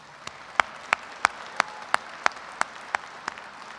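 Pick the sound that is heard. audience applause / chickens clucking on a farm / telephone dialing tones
audience applause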